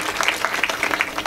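Steady applause from an audience at a religious kirtan gathering in a village, a dense close patter of many hands clapping through the brief moment without pause.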